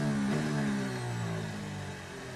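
Onboard engine note of a Renault Formula 1 car at the 2019 Bahrain Grand Prix, in the moments of a power failure: a loud, buzzing harmonic whine that sags slightly in pitch and volume over two seconds, with no voices.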